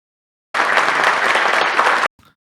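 An audience at a speech bursts into steady, dense applause that holds for about a second and a half and then stops abruptly, leaving a brief faint patter.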